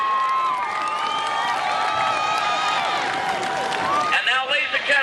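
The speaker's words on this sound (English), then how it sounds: "Let's give them a great round of applause" Sustained audience applause and crowd noise in the stands at a high school football championship game, steady clapping for several seconds beneath a loud, ringing tonal sound, with a voice breaking through at the end.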